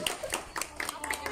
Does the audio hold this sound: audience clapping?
yes